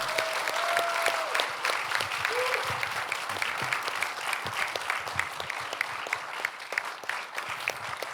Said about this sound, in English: A big hand of applause, please